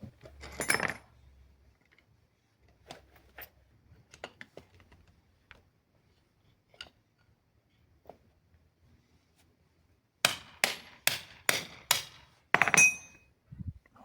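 A hammer strikes a seized wheelchair steering part. Scattered faint knocks and taps come first, then a quick run of about five sharp, ringing metal blows near the end.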